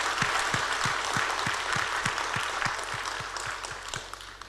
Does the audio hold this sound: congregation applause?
yes